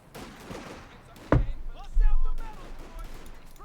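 Gunfire in a Company of Heroes 2 battle between Wehrmacht Grenadiers and US forces, a sudden loud burst of shots followed by a heavy boom and rumbling explosions, brief and close, mixed with faint game sounds.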